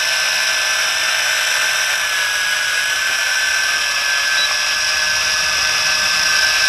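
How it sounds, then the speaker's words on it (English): A Tarantula X6 quadcopter drone flies close by, its motors and propellers making a loud, steady, high-pitched whine with a faint tonal drift and no pauses. "Pretty cool quadcopter, ain't it?"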